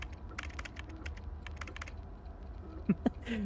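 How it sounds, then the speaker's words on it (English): In Arknights: Endfield, a run of quick, light keyboard clicks typing a character name sits over a low steady hum, thinning out before a couple of soft thumps near the end. "It sounds like I'm actually typing something really important"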